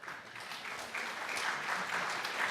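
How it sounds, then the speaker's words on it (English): Audience applause after a panel discussion on growing startups out of college, moderate, steady clapping from a seated crowd that swells slightly toward the end, fairly distant and with no talk over it. "Please give everyone a round of applause"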